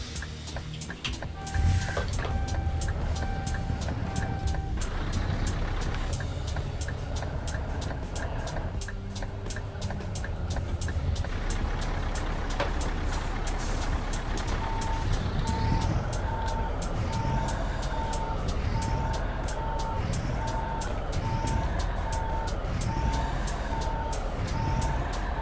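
A Scania truck with an engine sound mod in Euro Truck Simulator 2 rumbles steadily while reversing beeps repeat in a regular rhythm, joined by brief air and mechanical noises, continuous and close with no talk.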